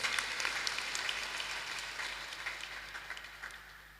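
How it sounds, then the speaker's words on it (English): A university congregation audience applauds its donors, a thin, faint patter of scattered clapping with some sharper individual claps standing out, fading slightly over a few seconds. "Let's give them a round of applause."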